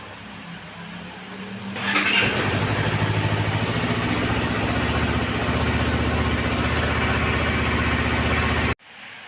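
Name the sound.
Honda CBR250RR motorcycle engine starting and idling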